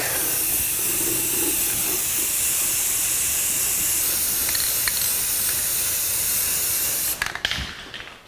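Steady, loud spray-can hiss of flat black paint being applied as a final coat to the undercarriage of a 1982 Jeep CJ7 tub, running continuously before cutting off near the end.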